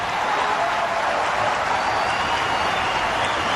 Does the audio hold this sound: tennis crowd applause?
yes